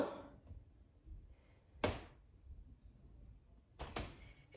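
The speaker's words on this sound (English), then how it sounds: "If y'all are hearing creaks, there ain't nothing wrong with this house. That's just my dad moving upstairs." House creaking from someone moving upstairs, a few muffled thuds and knocks spaced seconds apart, one double bump near the end, faint and indoors over low background rumble with no speech.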